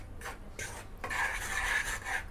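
A spatula scrapes and stirs two cups of gram flour dry-roasting in a pan for Mysore pak, making soft, uneven rasping strokes with short pauses between them. The sound is quiet and close.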